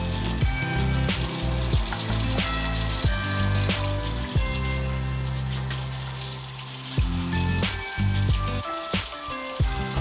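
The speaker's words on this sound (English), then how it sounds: "I turn the water on to cold. You definitely want it as cold as you can get it. And I just wash it, knead it," Homemade butter washed and kneaded by hand under cold running tap water, the stream pouring steadily into a sink with sloshing and wet squeezing, loud and close throughout, no voices.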